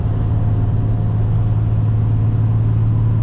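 An HKS turbocharged Nissan 350Z cruises at speed, heard as a steady low engine drone and road rumble from inside the car, constant in level with no voices.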